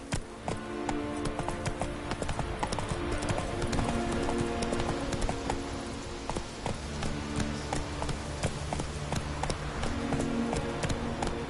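Roach, Geralt's horse in The Witcher 3: Wild Hunt, galloping: continuous rapid clip-clop of hooves, loud and close, with steady rhythmic thuds running throughout and game music or ambience faintly beneath.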